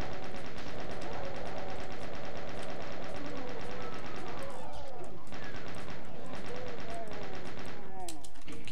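Chain gun in Doom 2 firing in rapid, continuous bursts amid other game noise and monster sounds, dense and loud throughout, with speech over it.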